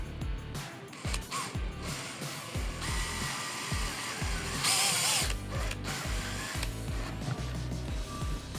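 Power driver running screws into a thin plastic motorcycle saddlebag lid, giving repeated ratcheting, whirring bursts over steady mechanical noise, close and moderately loud.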